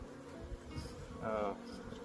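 Honeybees pour out of an opened hive during a mid-winter check, a soft close buzzing hum that swells briefly near the end.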